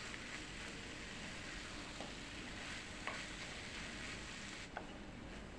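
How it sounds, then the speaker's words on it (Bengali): Grated kakrol (teasel gourd) being stirred and turned with spices in a hot pan, a steady soft sizzle with faint scraping of the spoon, low and continuous with no voice. "দেখো, খুব সুন্দর করে আমি মিশিয়ে দিচ্ছি একদম ওপর নিচ করে করে।"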